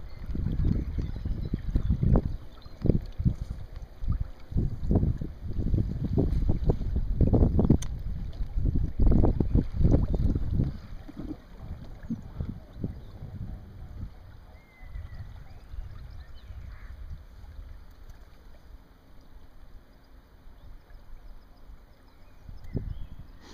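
A sailboat moving through wind on open water, with heavy buffeting wind noise and rushing water that is loud early on, then eases into a quieter steady wash.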